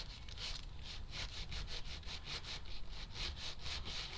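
A small wooden model part for a DeAgostini Moomin House build being sanded by hand in close, steady rhythmic back-and-forth strokes, each rasping pass distinct, with no talking.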